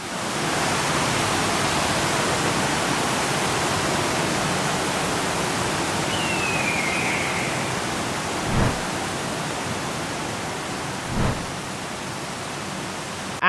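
A waterfall in Chiapas, Mexico pours as a steady broadband rush of falling water, even and continuous, with two brief low thumps late on.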